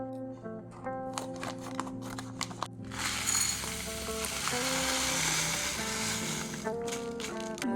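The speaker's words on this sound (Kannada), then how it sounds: "ಮೊದಲಿಗೆ ಸ್ವಲ್ಪ ಸಾಸಿವೆ ಸ್ವಲ್ಪ ಜೀರಿಗೆ ಕರಿಬೇವು ಒಂದು ಸಣ್ಣ ಈರುಳ್ಳಿ ಹಾಕಿದೆ ನಾನು" Mustard seeds, cumin, curry leaves and a small onion fry in hot oil, first with scattered pops and clicks over a musical background, then a loud, steady close sizzle that eases toward the end.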